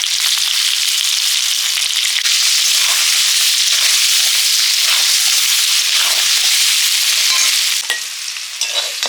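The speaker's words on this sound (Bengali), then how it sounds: "খোসাগুলো এই জন্য ছাড়াইনি একটু হলুদ আর লবণ দিয়ে ভেজে নেব" Thin potato peels frying in a pan with turmeric and salt, giving a loud, steady crackling sizzle with occasional stirring scrapes that eases slightly near the end.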